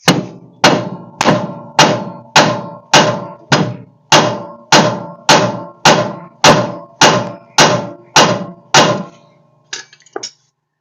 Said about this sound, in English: Let me hit the spindle first and just see if it'll break loose.